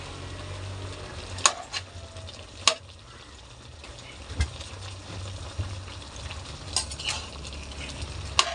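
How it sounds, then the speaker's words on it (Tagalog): Chicken adobo with saba bananas sizzles steadily in a pan while a utensil stirs it, with a few sharp scrapes and clacks against the pan standing out over the constant close frying hiss. "Siyempre halo ulit."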